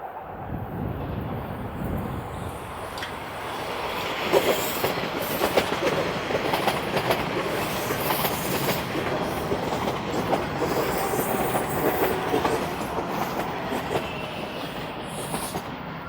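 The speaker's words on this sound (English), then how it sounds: "And here comes an eastbound train." Eastbound Toronto subway train pulling into Main Street station, a sustained rumble with clickety-clack rail joints and light squeal, moderately distant and steady throughout, with no talking.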